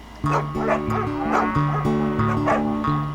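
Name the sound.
cattle mooing in a paddock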